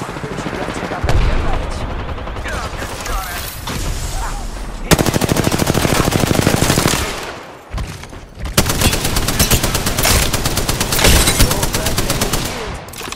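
Automatic weapon fire in the video game Apex Legends, with long sustained bursts of rapid shots broken by brief pauses, loud and close, mixed with game effects and occasional voice lines.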